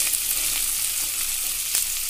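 Chopped onions frying in hot oil for a Bengali mutton curry, a continuous dense crackling sizzle, close and even throughout, without voices.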